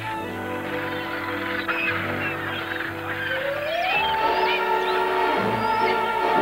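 Ground-nesting Arctic birds honk in a loud, dense flock, overlapping calls rising and falling continuously at close range.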